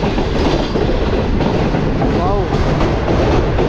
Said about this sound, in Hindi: धर्मपुरा लाहौर से गुजर रही है सब ट्रेन।